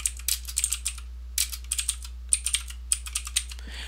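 Someone types on a computer keyboard in short bursts of crisp, close clicks, with brief pauses between runs of keystrokes and a low steady hum underneath.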